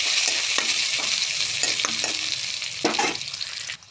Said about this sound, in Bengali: তারপর দিয়ে দেবো পেঁয়াজ কুচি, দিয়ে আস্তে আস্তে নাড়তে থাকবো।